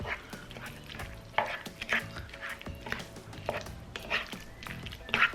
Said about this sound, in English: So we're gonna mix it up now.